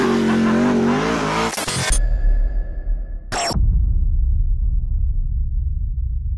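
The 1400hp all-wheel-drive Hoonicorn Mustang race car is driven hard, with a loud engine roar that cuts out abruptly, then a sharp burst of tire or engine noise, and finally a rumbling low drone with no voices.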